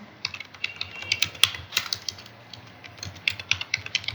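Python code being typed on a computer keyboard, a close, steady patter of key clicks with brief pauses and no talking.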